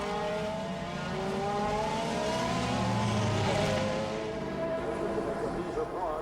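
Race cars at well over 200 mph on the Mulsanne straight during the 2003 Le Mans 24 Hours, a loud sustained engine roar with rising and falling pitch as cars pass, under steady commentary.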